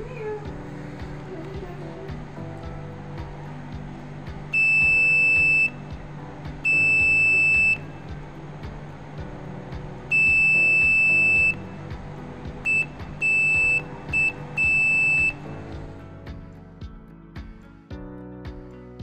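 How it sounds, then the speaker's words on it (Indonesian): A small buzzer driven by a microcontroller sounds in several bursts as a push button is pressed and released, sharp electronic beeps of about a second each, with a faint background hum and no talking. "Ketika ditekan maka buzzer akan mengeluarkan bunyi, lalu ketika dilepas akan mati."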